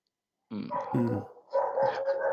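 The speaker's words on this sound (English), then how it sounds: "This guy have a dog. In the street." A dog out in the street barks, yips and growls in two loud, close bursts that follow a short silence, with no voices over it.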